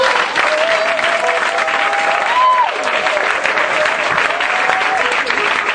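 A church congregation applauds with steady, dense clapping throughout, while a voice speaks or calls out over the applause.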